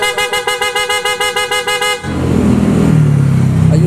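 A PIAA car horn fitted to a 2024 Toyota Wigo blares in a rapid series of loud, evenly spaced toots for two seconds, then gives way to engine and street noise.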